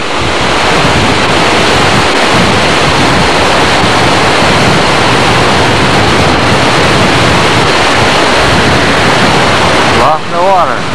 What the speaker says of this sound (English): No falls here, just a lot of rushing water.